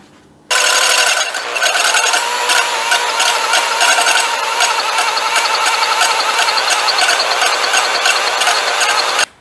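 A ratchet clicks steadily and quickly during engine work on a 327 small-block Chevy, a dense continuous ratcheting close to the microphone that starts abruptly and runs for several seconds without talk.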